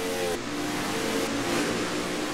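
Race cars in the NASCAR Racing 2003 video game roar past during an amateur series qualifying session at Salem, a dense, steady engine drone with a rising rev near the start and no talk.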